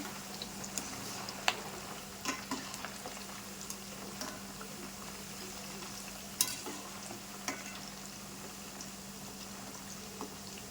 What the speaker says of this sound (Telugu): మధ్య మధ్యలో ఇట్లా కలుపుకుంటూ ఉండాలండి, బాగా అంతా వేగడం కోసం.